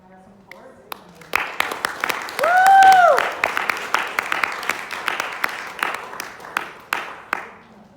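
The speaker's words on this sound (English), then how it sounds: "Can I have some applause?" Applause for graduates at an English department awards ceremony, a crowd clapping in a steady rattle with sharper individual claps standing out near the front, a brief cheer or whoop rising in the middle before the clapping thins out.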